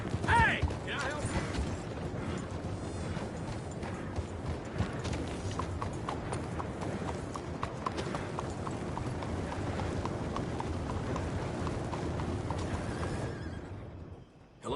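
Steady clip-clop of horse hooves in a regular walking rhythm, with faint mechanical creaks and brief voices early on, from the video game Red Dead Redemption 2.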